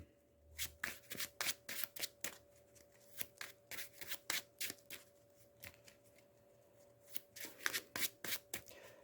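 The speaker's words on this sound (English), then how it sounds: "This gets shuffled" Someone shuffles a deck of cards for the Marvel Champions card game, with rapid crisp riffles and taps repeating steadily and close by, with no talking.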